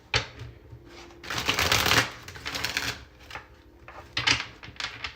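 Tarot cards being shuffled by hand in several riffling bursts, the loudest in the middle and another near the end, close and crisp with no talking.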